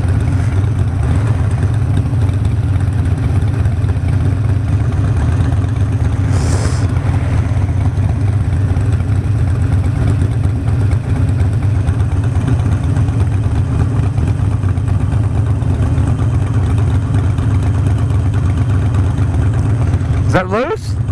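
Two motorcycles idle together, making a loud, steady, low engine drone that continues without a break for about twenty seconds, with indistinct voices mixed in.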